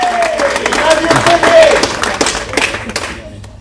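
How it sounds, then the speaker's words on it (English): Audience applause after a speech at a grant event: dense clapping from a crowd fills the clip at steady strength, with a voice talking over it and the clapping thinning out toward the end. "you can give yourselves a round of applause, please"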